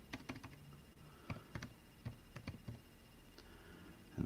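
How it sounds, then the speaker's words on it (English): A computer keyboard clicks in short, uneven bursts of keystrokes, with brief pauses between them, faint and close in a quiet room. "And you can hear me typing away."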